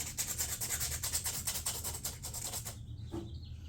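Sandpaper rubs back and forth across a fiberglass door panel under repair, a rhythmic scratchy rasp of quick strokes that stops near the end and leaves a quiet room.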